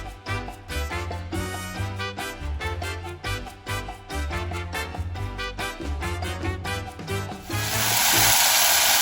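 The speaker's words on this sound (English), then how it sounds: "Now saute the green curry paste in the coconut oil for about 5 to 7 minutes." Green curry paste hits hot coconut oil in a saucepan for Thai green curry with tofu, bursting into a loud, steady sizzle near the end after a stretch of background music.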